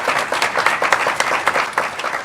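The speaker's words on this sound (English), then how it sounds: "No more clapping." Audience clapping at a Sea of Thieves developer panel at TwitchCon 2019, a dense burst of many hands close by, steady throughout with no talk over it.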